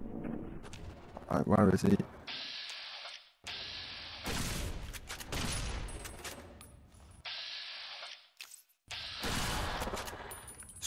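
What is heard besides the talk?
gunfire in the video game Fallout New Vegas Dead Money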